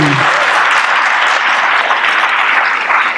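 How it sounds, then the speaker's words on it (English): A panel discussion audience gives loud, dense, sustained applause for panelists at a talk on book banning, an unbroken wash of many hands clapping close by for the full three seconds. "So finally now, a round of applause for Emily Knox, Max Eden,"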